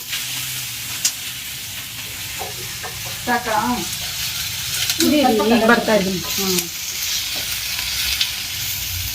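Onions fry in a pan for an Andhra and Tamil Nadu style mutton dish, giving a continuous sizzle and hiss with occasional stirring scrapes. A voice speaks briefly over the cooking.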